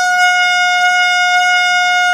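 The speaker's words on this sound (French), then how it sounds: "avec le temps, je vais finir par m'habituer à ce klaxon" A loud, steady horn blares without a break for the whole stretch, a single sustained harmonic-rich tone with no talking over it.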